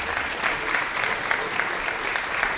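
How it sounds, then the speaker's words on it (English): An audience at a weight-loss challenge event applauds a chiropractor, Dr. Derek, as he comes up to speak. Dense, steady clapping fills the room at an even level throughout, with no talk over it. "A round of applause"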